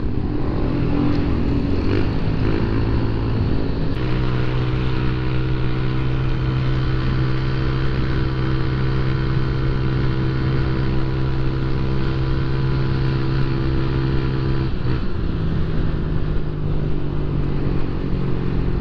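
A Honda Click scooter with an upgraded CVT set cruises on a road near Antipolo, its engine holding a steady, continuous drone with slight pitch shifts, close and loud throughout with no talk.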